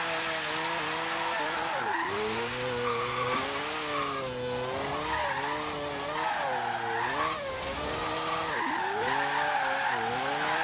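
A car drifts sideways in the racing video game Forza Horizon 3, its engine droning and wavering through revs while the tires squeal steadily, loud and continuous throughout.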